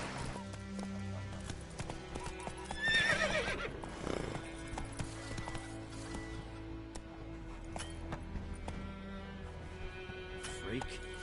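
The horse Roach gallops in The Witcher 3 with a steady drum of hoofbeats and a loud whinny early on, layered over constant game music and ambience; a voice speaks at points.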